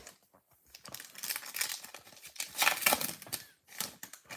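Trading card packs of 2024-25 Topps Chrome Bundesliga being ripped open by hand, a run of crinkly foil tearing and crumpling bursts of varied loudness, close up with no talking.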